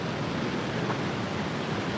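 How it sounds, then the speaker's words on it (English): Steady broadband roar of surf washing onto a beach, continuous and fairly loud with no distinct breaks or voices. "the crashing sounds of the beach"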